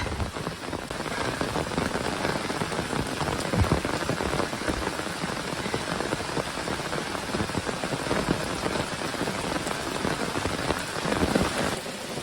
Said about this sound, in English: It is just plain raining hard.